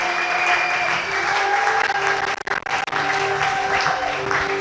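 A church congregation applauds and acclaims Jesus, sustained dense clapping from a crowd filling the room, briefly thinning for a moment midway before swelling again.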